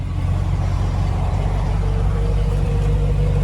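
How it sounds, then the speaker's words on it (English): A Model A Roadster hot rod rolls along Motor Row in Davenport, Iowa, its engine giving a steady low rumble and drone throughout, close and continuous with no talk. "This is a Fedora Model A Roadster."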